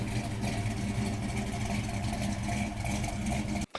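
A classic Ford Mustang engine idles with a steady, low rumble that holds an even level throughout, then cuts off sharply near the end.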